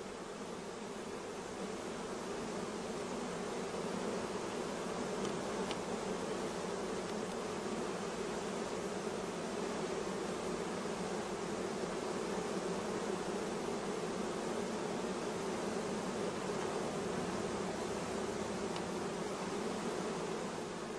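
A soft, steady hum of honey bees swarming around hive frames of brood, a dense continuous buzz at low level with no voices.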